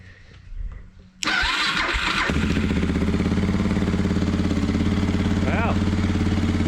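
A Suzuki DR650 motorcycle with the choke on cranks after quiet fiddling, catches abruptly and settles into a loud, steady, rapid idle close by.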